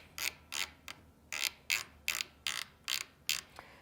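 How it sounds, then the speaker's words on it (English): Tension screw being turned on a Janome HD9 sewing machine, a series of about ten crisp ratcheting clicks in a steady, slightly uneven rhythm, close and clear in a quiet room. "So I'm screwing this all the way in"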